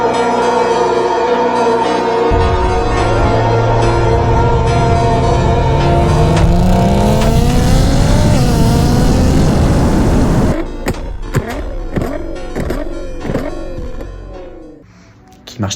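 A Nissan GT-R R35 revs with a rising engine whine that climbs in pitch over several seconds, then breaks into a series of sharp, rapid mechanical bursts and pops before fading.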